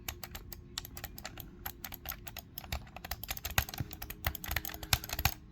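Rapid clicky button presses on a Hori Fighting Commander Octa controller, close and crisp, in irregular bursts of quick taps that grow busier toward the end, with no talking.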